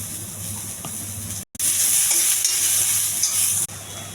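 Onions tossed into hot oil with curry leaves, chana dal and cumin sizzle loudly in a frying pan, a brief gap before a bright, steady hiss that continues under occasional stirring scrapes, then drops back.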